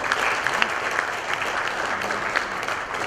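A crowd at a company presentation event gives sustained, dense applause, steady and fairly loud for the whole stretch, with no break in the clapping.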